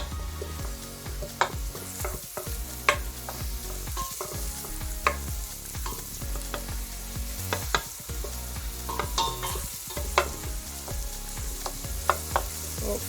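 Chopped onions sizzle and fry in a pan on a home stove for a takeaway-style chicken Madras, a steady loud hiss broken by repeated clatters of stirring, with no talking.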